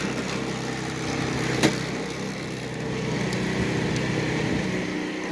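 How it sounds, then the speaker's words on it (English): A motorcycle with loose, rattling parts runs steadily nearby, a constant engine drone with a faint buzzy rattle mixed in and one brief sharp knock partway through. "Things rattle on this bike, man."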